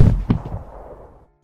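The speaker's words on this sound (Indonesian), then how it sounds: "Timah panas mengenai muka Serpico, tembus hingga ke bagian bawah mata dan bersarang di atas rahang" A single loud pistol gunshot sound effect cracks sharply at the start, then its echoing tail fades out over about a second to silence.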